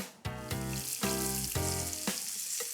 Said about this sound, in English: I'm going to saute these just 2 minutes aside.